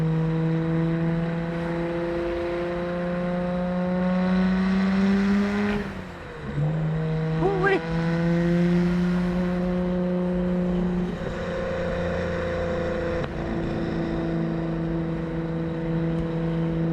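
A Nissan Skyline GT-R R34's engine revs and pulls hard through the gears, rising in pitch, dipping briefly around a shift, then climbing again; it plays loud and close with no talking over it.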